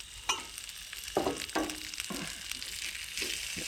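Soft, steady sizzling and crackling of salmon cooking on a grill at a campsite, with occasional faint clicks and scrapes, heard fairly quietly and close.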